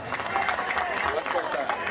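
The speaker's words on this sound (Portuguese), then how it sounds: "vamos aplaudir. Banda Marcial da cidade de Marília." Applause from an outdoor audience for the Marília city marching band, a continuous crowd clatter with voices blended through it.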